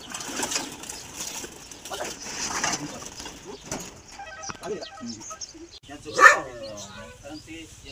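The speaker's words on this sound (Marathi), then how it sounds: "पक्षी उडून आला ना" A pigeon or dove coos in a few soft, low calls at moderate distance, with a louder call near the end, under scattered background noise and some talking.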